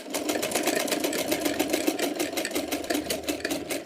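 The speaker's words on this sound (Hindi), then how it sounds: "इस तरह से हमें अपनी फिटिंग की सिलाई कर लेना है" A sewing machine stitches blouse fabric along a fitting seam, a steady, fast mechanical whirr with an even rapid needle rhythm running continuously and fairly close throughout.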